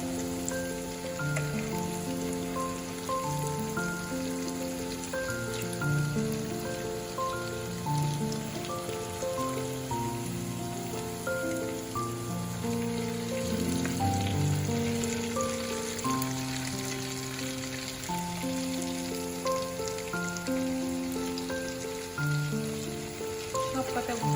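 Dhoka lentil cakes frying in oil make a continuous, even crackling sizzle with dense spitting patter that holds steady throughout, heard close and alone with no talking.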